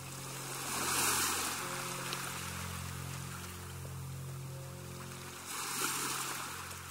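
Sea waves surge and recede in a steady wash, swelling twice into louder breaking crests with a low rumbling undertone, heard alone as an effect in an audiobook.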